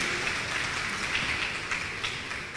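A church congregation applauds at a missions service, a dense, continuous wash of clapping from many hands that holds at an even level throughout without pause.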